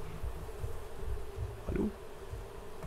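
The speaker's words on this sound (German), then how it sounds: "Dann geht es jetzt noch an die Bienen." Bees buzz in the Raft video game, a faint, steady insect drone over a low background hum, with a brief louder buzz near the middle.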